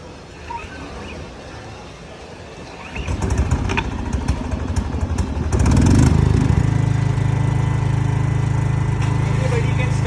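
A Bajaj 15 kW soundproof petrol portable generator is recoil-started after quiet handling noises, its engine catching around three seconds in and settling into a steady, loud running hum that grows fuller and continues to the end.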